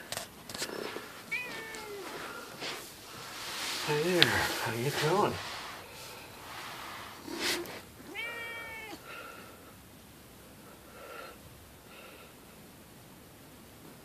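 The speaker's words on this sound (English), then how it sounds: "Hi, kitty." A cat meows several times, with rising-falling cries around the middle and a clear meow later, while a person speaks softly nearby.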